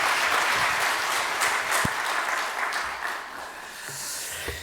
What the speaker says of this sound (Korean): 인사하고 들어갈 때 우리 큰 박수 부탁드리겠습니다